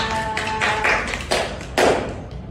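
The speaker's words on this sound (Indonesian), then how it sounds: "Terus sekali tepuk tangan untuk Mas Satria" A classroom of students claps for a classmate, uneven bursts of hand claps rising and falling in a few waves, close and fairly loud.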